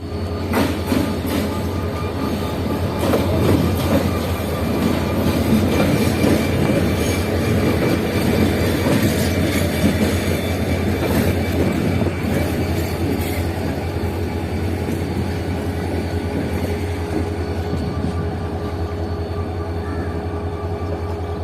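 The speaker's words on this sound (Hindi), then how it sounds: "तो ये आ चुकी है हमारी ट्रेन, यानी कि 27 अब शालीमार एक्सप्रेस" Shalimar Express passenger train pulling into a station in Pakistan, with a steady loud rumble of rail cars and clattering wheels that carries on throughout, with no talk.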